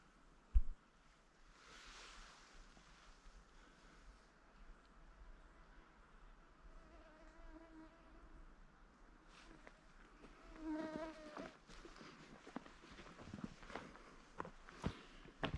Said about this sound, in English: just got a huge mosquito on my view